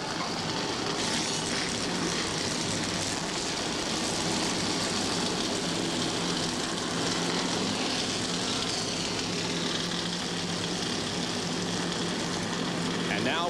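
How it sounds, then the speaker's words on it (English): IROC race car engines fire up at Talladega in 2000, a loud, continuous roar of many engines blending into a dense drone, with voices talking over it. "True Value, IROC drivers, start your engines."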